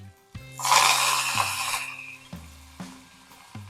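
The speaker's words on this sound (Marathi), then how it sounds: "मोहरी तडतडली की यामध्ये कढीपत्ता ऍड करायचा" Mustard seeds and curry leaves hit hot oil while tempering for dhokla idli, giving a loud, close hissing sizzle that swells for about a second and then fades, followed by low hum and a few sharp clicks.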